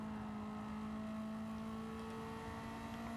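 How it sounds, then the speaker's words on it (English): A racing car engine in Gran Turismo 7 holds a steady, loud, rasping drone, its tone unchanged throughout with no speech over it. "Oh, the rasping engine."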